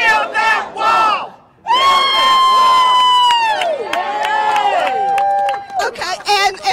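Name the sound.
large rally crowd cheering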